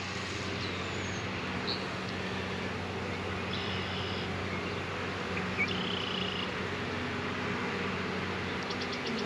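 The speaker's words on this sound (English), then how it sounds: "Got a couple bees with pollen on their legs." Honey bees from a freshly hived swarm hum in a steady, continuous drone close by, a soft insect buzz filling the air with a few faint chirps over it and no talking.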